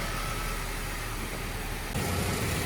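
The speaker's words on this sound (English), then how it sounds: "let's let the car warm up and burp the system" A 9th-gen Honda Civic Si's K24Z7 engine idles steadily while warming up after a water pump replacement, giving an even broadband hum that thickens slightly toward the end. No one speaks.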